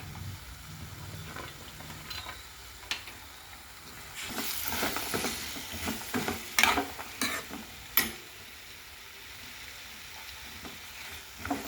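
Amaranth stems are stirred into a masala of coriander powder and garam masala in a pan for a chana dal curry, giving a soft steady sizzle broken by scraping stirs and clinks of a spoon, close and fairly quiet.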